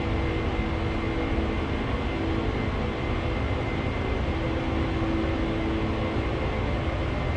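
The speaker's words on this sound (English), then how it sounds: "It's like you can hear that engine sound, like when they're at full rev." A Boeing 747-400 in Flight Simulator X gives a continuous, even engine roar at high power, a dense steady rumble with a faint tonal whine running unbroken and alone.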